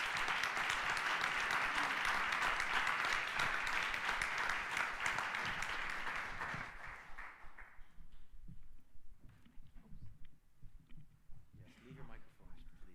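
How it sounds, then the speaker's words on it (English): A climate action event audience in London applauds a discussion panel: loud, sustained crowd clapping for about six seconds, then it stops abruptly and soft scattered sounds and quiet murmurs follow. "I would like you to all give this brilliant panel another round of applause for their wonderful contributions."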